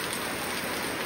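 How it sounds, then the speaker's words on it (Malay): Dense, steady rain falling in a Malaysian village on the eve of Hari Raya, a continuous close hiss with no voices. "Kita tengok hujan pula."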